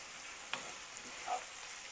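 Garlic fries in a pot for chicken noodle soup, giving off a faint, steady sizzle with a few soft crackles and pops.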